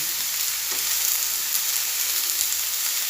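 Vegetables being stirred while they fry in coconut oil with mustard seeds give a loud, continuous sizzle that stays even throughout, with no voices.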